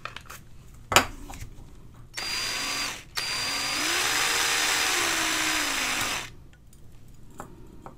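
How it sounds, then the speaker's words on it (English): A small power drill boring a little hole in a radio coil former for a two-valve radio build; two whining bursts, the second longer with pitch dipping under load, close and alone with clicks before and after. "I'm going to drill a little hole there and pass it through"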